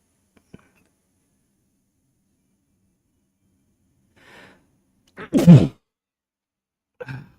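A single close, sharp sneeze breaks a near-silent room, preceded by a faint breathy intake and followed by a short snort-like exhale.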